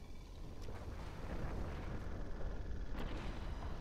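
Battleship shelling explosions in Planetary Annihilation Titans with the Legion mod, a low rumbling barrage of distant booms under a steady wash of noise.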